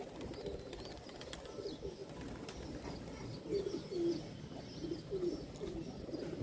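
Fancy pigeons coo in soft, repeated low calls, with faint chirps and steady background noise throughout.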